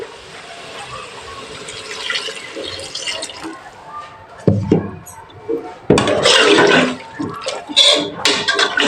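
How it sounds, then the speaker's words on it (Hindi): Water splashes and gurgles into a pot of browned mutton and potato curry up close, poured in a few loud bursts over sizzling background sounds. "अब इसमें मैं पानी डालूंगी।"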